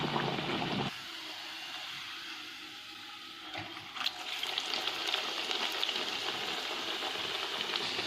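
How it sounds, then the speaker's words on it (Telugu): Ragi rotti shallow-fried in hot oil until crisp on both sides, giving a steady, close crackling sizzle with a brief stir or spatula scrape partway through. "వీటిని 2 పక్క క్రిస్పీగా ఫ్రై చేసుకోవాలి"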